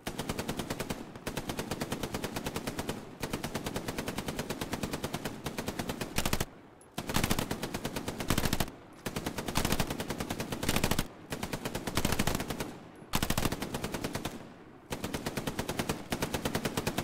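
Rapid machine-gun bursts from a Hell Let Loose night-attack battle, loud and close, firing in long rhythmic strings with short gaps and a few heavier single shots between them.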